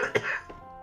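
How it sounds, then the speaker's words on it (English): A single sharp cough bursts out close to the microphone, followed by a softer second huff and a lingering breathy tail, with no one speaking. "I need to cough now."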